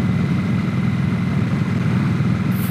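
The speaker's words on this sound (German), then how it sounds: "Hoffentlich hat man jetzt vor lauter Fahrt, Wind den Auspuff auch ein bisschen gehört." A Harley-Davidson Nightster motorcycle exhaust rumbles steadily at a low pitch while riding, a deep continuous drone partly blended with wind noise.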